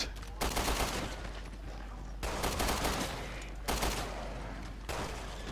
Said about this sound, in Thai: ยิงมาทางนี้ ก็แสดงว่าอยู่ทางนี้